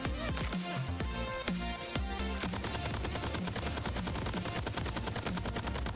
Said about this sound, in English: Here's the most basic auto rifle.